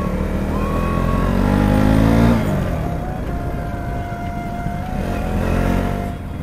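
Motorcycle engines at a bikers' meetup point drone loudly and close by, with a revving rise and falling pitch early on, then a steady running rumble that swells again near the end.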